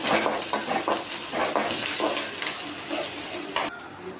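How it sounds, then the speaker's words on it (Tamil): Green chillies and curry leaves sizzle in hot oil while cooking wheat rava upma, a steady close frying crackle with scattered sharp pops and occasional stirring scrapes against the pan, no voices. "பச்சை மிளகாய் போட்டால் கொஞ்சம் வெடிக்கும், கொஞ்சம் லாங் டிஸ்டன்ஸில் இருந்துக்கங்க"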